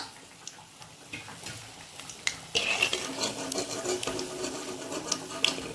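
Ulundu vadai, South Indian lentil fritters, fry in hot oil with a steady bubbling crackle and scattered sharp pops that grow busier partway through, with no talk.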